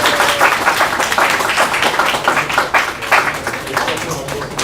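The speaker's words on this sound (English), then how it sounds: "A round of applause for Ronnie" Audience applause at a business presentation on commercial AR and VR technology: dense, steady clapping from a crowd that holds at an even level throughout, with no pauses.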